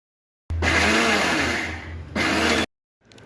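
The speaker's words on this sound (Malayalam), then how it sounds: "നമുക്ക് ഇതേപോലെ മിക്സിയിലിട്ടിട്ട് നന്നായിട്ടൊന്ന് അരച്ചെടുക്കാം" A mixer grinder whirs loudly up close as it grinds soaked lentils for small tea-stall-style parippu vada. The motor runs about two seconds with a brief dip in pitch, then cuts off abruptly.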